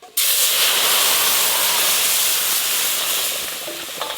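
Dal with amra hits hot mustard oil in a sudden loud burst of sizzling hiss that holds steady for several seconds and then eases slightly.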